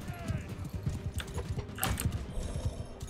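Horses in the video game Mount & Blade II Bannerlord clop with steady rhythmic hoofbeats close by, with brief louder impacts in the middle of the sequence.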